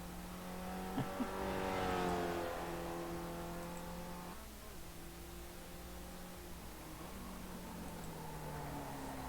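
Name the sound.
race car engine driving in iRacing video game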